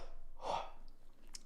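A single short sneeze from a man sounds close to the microphone, a quick breathy burst with a soft exhale after it.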